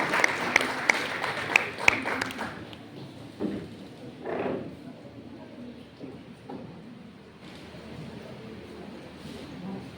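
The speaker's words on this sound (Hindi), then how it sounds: "जोरदार तालियों से अभिनंदन किया जाए" Applause in an auditorium welcoming a speaker to the stage at a college function, with sharp claps in the opening seconds that fade into murmuring and room noise.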